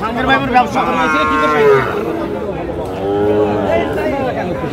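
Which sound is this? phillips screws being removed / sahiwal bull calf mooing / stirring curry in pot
sahiwal bull calf mooing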